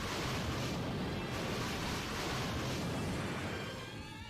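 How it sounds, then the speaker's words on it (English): Explosion attack in the role-playing game Bravely Second: End Layer, a loud sustained roaring blast of noise lasting several seconds that fades slightly at the end, with no speech over it. "And then explosion."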